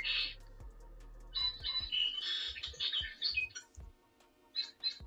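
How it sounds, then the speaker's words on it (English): Small bird chirps and squawky tweets repeating irregularly close by in a quiet indoor space, with a brief low hum at the start and no talking. "Oh, bird."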